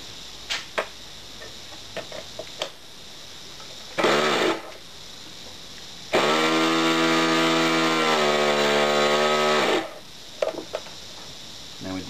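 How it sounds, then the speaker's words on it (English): A small engine, fed DWF fuel straight from a can into the inlet fuel nipple with the carburetor fully open, fires in a short buzzing burst, then runs loud and steady for several seconds before cutting out, with scattered clicks around it. "Now we did that until the motor started to load up slightly."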